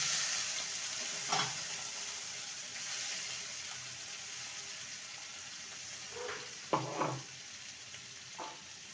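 Steady sizzling of a ginger, onion, green chilli and garlic paste frying in a hot pan, a constant crackling hiss with a few brief scraping stirs.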